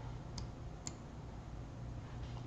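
A computer mouse clicks twice in quick succession while a SolidWorks CAD model is being edited, two short, faint, crisp ticks over a steady low room hum.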